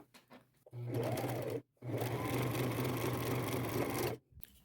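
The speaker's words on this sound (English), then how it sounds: "So I'm just going to sew it down, staying close to that outside fold right there." A sewing machine stitches down the double-rolled top of a layered ruffle crossbody purse in two loud, steady runs, with a brief pause between them and a short quiet at the end.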